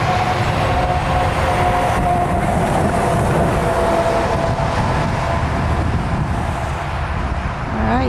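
A CN freight train rumbles past steadily and loudly nearby, with a continuous heavy roar, faint clattering and a thin squeal of wheels on rails.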